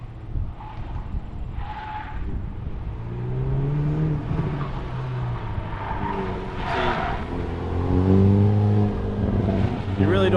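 A car revving and accelerating in second gear on an autocross course, engine pitch rising and falling repeatedly, with someone talking over it.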